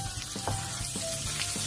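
Onions and ginger powder sizzle softly in a frying pan while being stirred, a faint steady crackle with a few light scraping strokes of the utensil.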